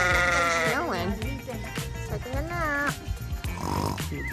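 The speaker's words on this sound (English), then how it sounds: "Found some sheep." Sheep at a zoo in Japan bleat loudly and nearby, several wavering calls in a row, while people talk over them.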